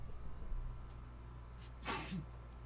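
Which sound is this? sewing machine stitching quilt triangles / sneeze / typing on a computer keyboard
sneeze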